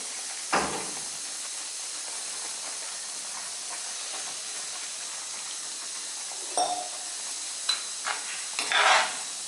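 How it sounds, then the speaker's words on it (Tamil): A mushroom curry made with buffalo-milk curd boils in a pot, giving a steady soft steamy hiss with a few brief clinks and bubbling pops near the end. "இப்படியே கொதி வருது"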